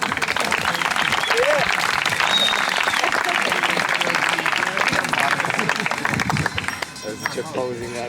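Crowd at a downhill mountain-bike race award ceremony clapping steadily for podium finishers, the applause fading near the end as an announcer's voice and some chatter come through.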